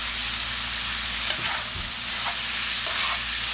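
Onions and garlic sizzle steadily in a pan for a Cajun pork and sausage jambalaya, a close, even hiss broken by a few soft scrapes and knocks of a spoon stirring.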